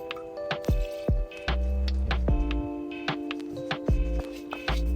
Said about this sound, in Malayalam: ബാക്കി വെള്ളം കൂടി ഒഴിച്ചു കൊടുത്ത് ഇളക്കി വേവിച്ചെടുക്കാം